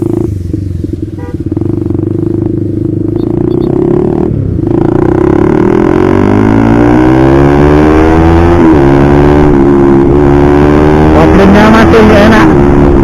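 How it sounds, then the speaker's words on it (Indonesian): A motorcycle with a loud aftermarket exhaust revs up hard and close, its pitch climbing through repeated rising sweeps and sputtering pops, with brief talk early on. "Jos knalpotnya."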